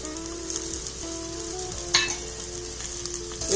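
Onion, ginger and green chili fry in a pan, a close, steady crackling sizzle with a few sharp pops and spatters, no voices.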